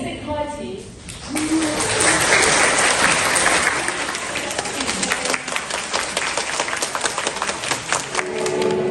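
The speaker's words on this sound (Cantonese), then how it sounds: "大家不如俾啲掌聲" Congregation applause at a church baptism ceremony, a sustained wash of many hands clapping that swells and holds, with a few voices and musical notes faintly beneath it.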